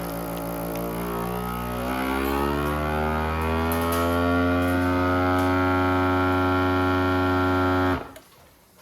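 A FoodSaver GameSaver Wingman Plus GM2160 vacuum sealer runs on its moist vacuum-and-seal setting: a steady, close motor drone with tonal harmonics that slowly rise in pitch, then cuts off abruptly near the end.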